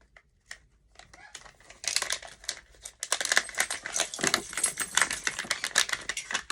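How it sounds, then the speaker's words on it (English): Plastic packaging crinkles and rustles up close, starting with a few light taps and then growing into busy, continuous crackling. "Sorry for the ruffling."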